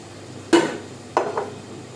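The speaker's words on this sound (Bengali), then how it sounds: "চুলাটা দুই চুলায় দুইটা বসিয়ে দিলাম" Two metal cooking pots are set down on a gas stove's burners for eggs and meat in a home kitchen, giving two separate clanking knocks, the second followed by a lighter scrape, close and distinct against a quiet background.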